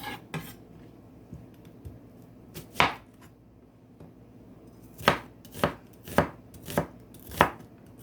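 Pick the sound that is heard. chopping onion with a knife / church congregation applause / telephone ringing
chopping onion with a knife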